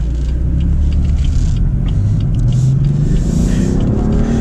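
A BMW M4 F83 convertible in manual mode pulls away with a steady, loud low engine rumble and road noise throughout, no voices.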